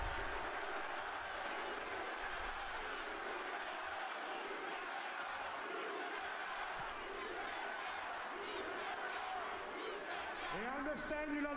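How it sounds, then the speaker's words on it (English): A wrestling arena crowd cheers and roars in a dense, continuous wash of noise at a live Monday Night Raw event, heard fairly far off and steady, with a short rising whistle-like sweep near the end. "Ooh, crowd is hot tonight."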